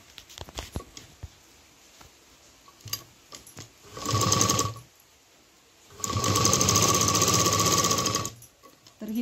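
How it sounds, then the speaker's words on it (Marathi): A sewing machine stitches a straight seam on a small fabric dholki bag in two bursts of fast, steady whirring, a short run then a longer one, separated by quiet handling clicks. "आणि स्ट्रेट शिलाई करून घ्यायची"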